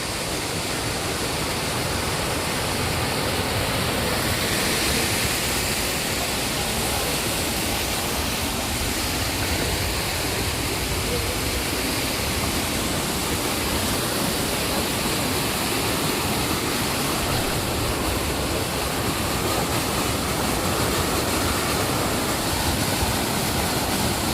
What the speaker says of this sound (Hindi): कितना तेज पानी आ रहा है।